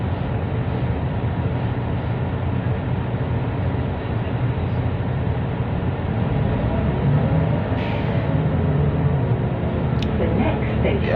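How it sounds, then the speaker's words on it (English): Great Western Railway train pulling out of a station on the line to Severn Beach, a steady loud engine and wheel rumble heard from on board, with a few faint higher noises near the end. "the engine has gone into action mode and we're moving"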